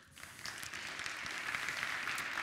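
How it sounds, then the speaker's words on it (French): Conference audience applauding two speakers as they come on stage, a steady wash of many hands clapping at moderate distance that builds quickly and holds evenly through the end. "on peut les applaudir"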